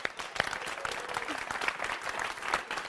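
A studio audience claps steadily and loudly for a few seconds at a finance seminar, a full continuous wash of applause with a voice faintly beneath it.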